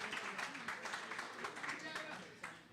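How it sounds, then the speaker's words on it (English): Applause from an audience greets candidates at a 2022 local election forum for the 16th Middlesex District, brief dense clapping with a faint voice underneath. "Let's give the candidates another round of applause."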